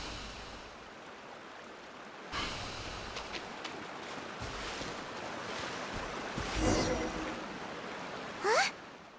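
A small waterfall in the video game Genshin Impact, heard as steady broadband rushing water, with brief louder swells and a rising whoosh near the end.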